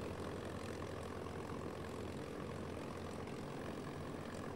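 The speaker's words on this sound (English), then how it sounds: "Doolittle's own bomber was the first to rumble down Hornet's pitching flight deck." A B-25 Mitchell bomber's propeller engines roar in a steady, dense drone as it rolls down the pitching flight deck of the carrier Hornet, continuous and unbroken, with no voices.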